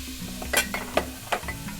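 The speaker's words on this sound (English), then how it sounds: "we're gonna start by sauteing the onions, which I have chopped up. And I already hear it sizzling" Chopped onions sizzle quietly in a hot pan with a soft, steady crackle, broken by a few light scraping stirs of a utensil.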